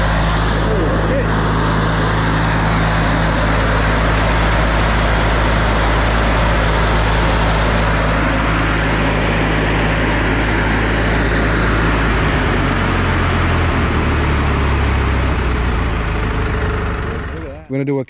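A Briggs & Stratton ride-on mower engine that has just been repaired runs loud and close with a steady droning rumble, then dies down near the end. A voice speaks faintly beneath the noise.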